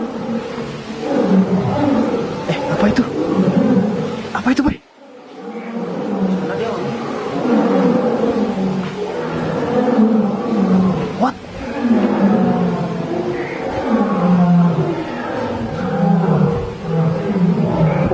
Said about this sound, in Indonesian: Suara macan ya?